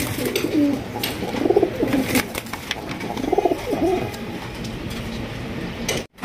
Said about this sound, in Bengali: ও কাকা, এই কি কবুতর আনলেন এটা?